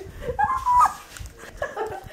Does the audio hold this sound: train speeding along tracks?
no